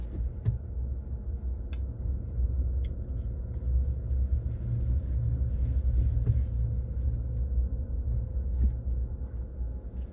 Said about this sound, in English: she's having a hard time getting that Cadillac out of there